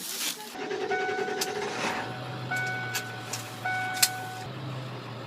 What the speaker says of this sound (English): Getting in the van. Gonna drive to our polling station.